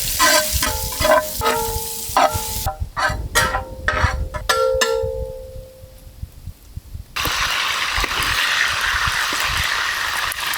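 Sliced onions with fenugreek seeds hit hot sesame oil in an outdoor pot, giving a loud, steady sizzle after several seconds of clinking stirring and quieter bubbling, with birds chirping faintly nearby.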